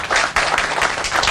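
Applause from a groundbreaking crowd for Betty Francis and Roland Jones at the new Laurel Library site, a steady dense wash of many hands clapping with one brief dip, close and loud throughout.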